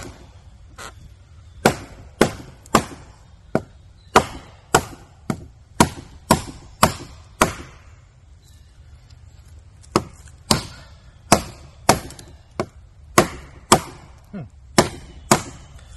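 A CRKT Kanji T-Hawk chops into a piece of wood outdoors, sharp loud cracking strikes landing in quick bursts, a rapid run of blows, a pause, then another flurry, close and crisp.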